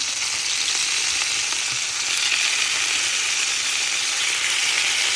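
Steady, bright sizzling of duck frying in a hot pan, an even hiss that continues unbroken with no voices.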